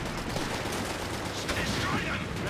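Gunfire and explosions in the video game Company of Heroes 3 form a dense, continuous battle rumble at moderate distance, with scattered sharper shots layered over the steady roar.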